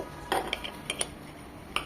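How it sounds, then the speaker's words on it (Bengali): A knife cuts slices of bread into small pieces ahead of blending for bread pudding, giving a short run of sharp, close clicks and taps against a hard surface, with no talk. "আমি প্রথমে পাউরুটিটাকে একটু ছোটো করে নেব, ব্লেন্ডারের সুবিধার্থে"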